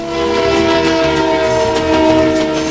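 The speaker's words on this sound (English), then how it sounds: "when they hear a train approaching and then receding, the sound will change in pitch" A train sounds its horn in one loud, sustained blare of steady harmonic tone over rumbling rail noise, close by and without speech.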